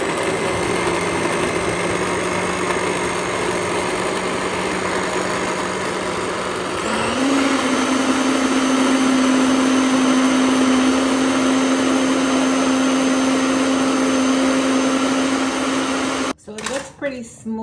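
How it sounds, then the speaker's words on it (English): A blender runs one long, loud continuous blend of a savory food mixture, its motor pitch shifting upward partway through before it cuts off near the end. "Now I'm gonna do the final blend"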